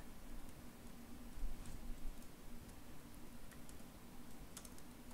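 Typing on a computer keyboard while building a Flutter Firebase reset-password screen, with soft continuous key clicks over a steady low background hum, faint and close throughout.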